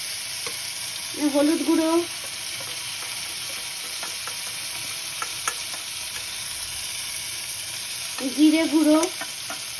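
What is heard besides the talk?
ginger garlic paste being stir-fried with spices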